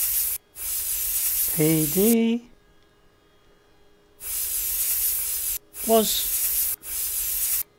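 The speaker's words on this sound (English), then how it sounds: "They've done a really good job with the spray on here." Spray painting in the VR sandbox game Unnamed VR: three loud, steady hissing bursts of spray, separated by near silence, with someone speaking briefly during two of the bursts.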